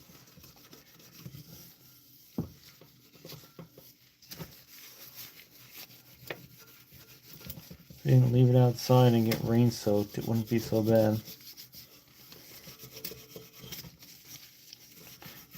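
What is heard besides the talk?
steel wool rubbing a wooden chair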